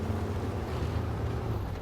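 Heavy truck engines in the off-road driving game SnowRunner drone with a continuous low, throaty rumble, loud and steady with no talk.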